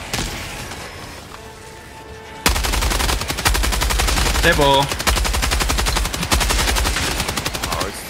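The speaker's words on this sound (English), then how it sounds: "Dude, this heavy machine gun is disgusting." Heavy machine gun from Helldivers 2 firing in a long sustained burst, loud rapid thudding shots with a steady rhythm after a quiet lead-in, with a player shouting briefly over it.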